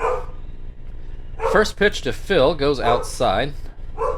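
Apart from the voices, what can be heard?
dog barking in the background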